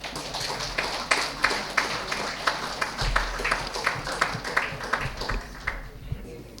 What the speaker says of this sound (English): Could we have a round of applause for him, please?